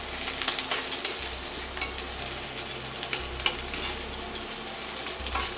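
Onions softening in a pan for Japanese lamb curry, a continuous moderate sizzle with occasional light stirring clicks, steady and close with no voices.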